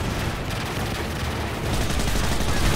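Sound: gunfire in video game Modern Warfare 3

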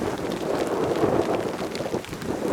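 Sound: rain starting to fall fast

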